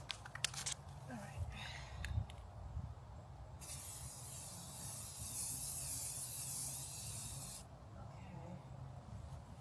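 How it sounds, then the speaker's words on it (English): A steady hiss of spray from an aerosol can runs for several seconds, close by, with faint handling noises before and after. "I'm spray painting it because of the Mod Podge residue"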